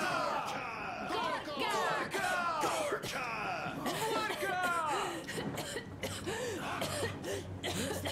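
Anna coughs in the video game Metro Exodus, a run of harsh, repeated coughs and throat-clearing mixed with strained vocal sounds, close and loud throughout, with other voices and game sound around her.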